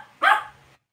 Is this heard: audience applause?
no